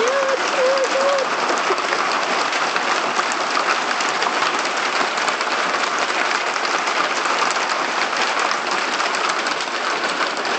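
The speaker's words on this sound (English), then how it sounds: "we're having a hailstorm" Dense, loud hail rattles and roars continuously on a hard surface. A brief tonal sound comes in at the very start.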